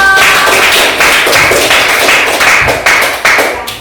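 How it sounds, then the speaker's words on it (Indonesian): A classroom group claps hands together for a presenting student group at a morning lesson, a loud, dense burst of many overlapping claps with sharper individual slaps standing out, fairly close. "Iya, oke, tepuk tangan dong."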